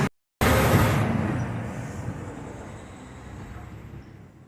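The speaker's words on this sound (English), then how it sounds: "it's a truck coming through" Truck passing on a highway, a loud whooshing roar that hits suddenly after a brief cut and then slowly fades as it moves away, with no talking.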